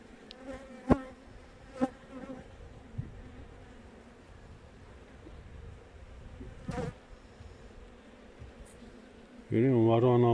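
Carniolan honeybees buzz around an open hive in a soft, steady drone, broken by a few sharp knocks and rustles, before a loud, harsh tonal whine suddenly takes over at the end.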